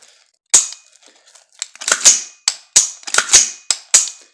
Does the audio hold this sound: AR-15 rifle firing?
yes